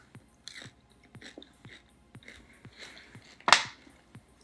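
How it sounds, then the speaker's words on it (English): Someone bites into a small piece of a Dubai-style chocolate caterpillar bar filled with crunchy phyllo dough, giving one sharp, close crunch amid soft chewing clicks. "I'm just going to bite into one little piece of the little caterpillar bar."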